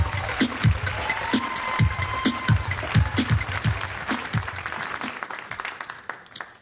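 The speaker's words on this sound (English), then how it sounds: "big round of applause for the very funny Adam Posse" A comedy club crowd claps for a comedian over music with a thumping, regular beat, the applause dense at first and thinning toward the end.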